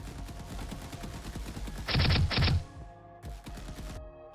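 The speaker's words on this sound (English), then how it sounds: "Someone is shooting at me." Gunfire in an Unreal Engine 5 top-down shooter game: rapid repeated shots rattling over steady game sound, peaking in two loud bursts in the middle, then cutting out and returning briefly near the end.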